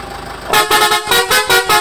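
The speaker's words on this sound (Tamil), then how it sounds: "ஏர் ஹார்ன் போட்டு" A truck fitted with an air horn blasts a rapid series of loud, close toots in a pulsing rhythm after a brief lull of engine noise, with no voices.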